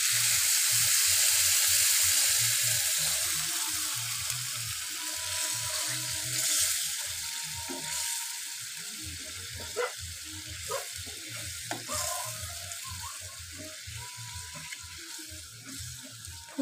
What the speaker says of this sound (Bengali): তেল ছেড়ে দিয়েছে, এবারে দিয়ে দেব জল।